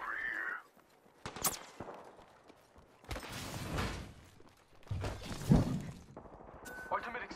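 Gunfire in the battle royale game Apex Legends, several separate bursts of shots and impacts scattered among quieter gaps, with a voice speaking between them.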